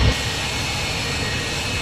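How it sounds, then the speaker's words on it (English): An MD-80 Maddog jet engine spins up in Microsoft Flight Simulator 2024, a loud, steady whining roar with a broad hiss that holds evenly after a brief thump at the start. "There's a good start on engine number 2"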